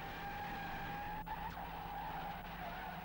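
A 1970s Daimler-Benz car braking fully without ABS, its wheels locking and skidding in a steady, continuous tire screech heard from a distance for the whole stretch.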